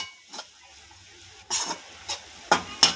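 Grated sweet potato is stirred in a pan with a spoon, giving a few sharp scraping knocks against the metal over a quiet background with a faint sizzle.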